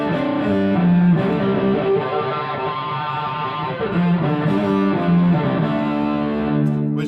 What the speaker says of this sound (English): Makes it a little louder, and this sick, massive distortion.